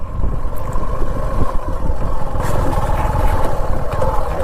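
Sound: motorcycle riding on forest path

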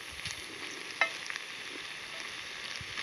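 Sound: vegetables roasting in a pan outdoors

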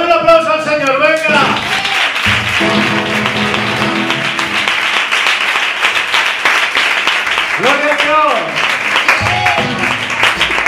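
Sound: congregation applauding in church

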